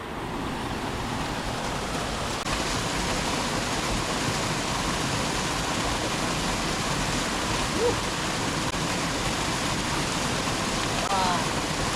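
The Pršjak waterfall and its mountain stream in the Trebuša valley of Slovenia rush steadily, flowing past rocky pools just above the falls. The roar is close and continuous, with no talking.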